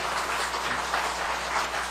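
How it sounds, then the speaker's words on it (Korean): Steady, dense applause from an audience at a church book concert, even and sustained throughout with no voices rising above it. "감사의 박수 부탁드립니다"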